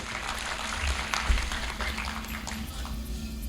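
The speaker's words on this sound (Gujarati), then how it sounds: "આખીને જોરદાર તાળીઓથી વધાવો" Audience applause at an annual get-together ceremony, a steady, dense wash of clapping that holds at an even level for a few seconds without a clear peak or fade.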